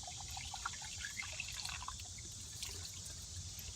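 Coolant water gurgles and trickles in a car radiator while a hose is squeezed to push air out, giving steady close bubbling with small drips throughout.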